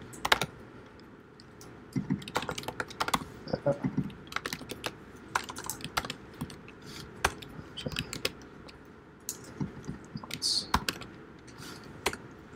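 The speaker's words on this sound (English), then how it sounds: "So there's some keyboard shortcuts I'm using." Keyboard shortcuts typed on a computer keyboard during a live coding stream: close, crisp key clicks in irregular bursts and single taps, with brief pauses between.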